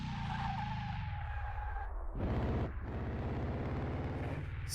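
A car on a test drive in Car Mechanic Simulator 2018 skids with tires squealing, its engine note dropping then surging back in a loud burst before settling into a steady drone.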